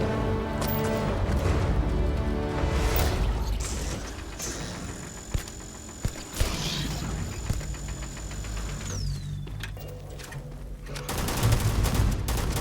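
Gunfire from a weapon in Starfield, several sharp shots scattered through a busy layer of game noise with mechanical hum and a steady electronic tone, moderately loud and with no talk.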